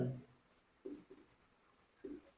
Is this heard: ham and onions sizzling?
no